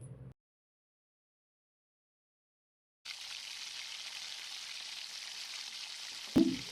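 Fish pieces fry on a high flame for a tangy fish curry, giving a steady, soft sizzle that starts after a brief silence and runs evenly, ending with a short clatter.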